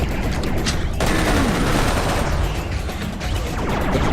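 Video game gunfire: a dense, loud, continuous barrage of rapid shots fills the whole stretch, like sustained automatic fire with no gaps and no talk.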